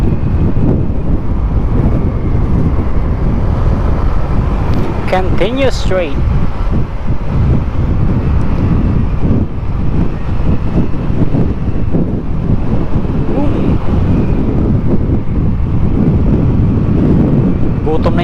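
Strong, constant wind buffeting the microphone on a KRV Moto 180 motorcycle ride toward a bridge in Taipei, loud throughout, with a navigation voice and brief speech over the roar.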